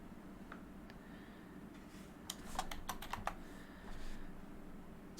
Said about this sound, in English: So if I just type in here Warp Stabilizer